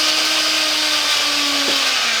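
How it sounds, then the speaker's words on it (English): An electric blender runs continuously and loudly, close by, while a tiki cocktail is made, with a steady high whine and no speech. "Where's the blender?"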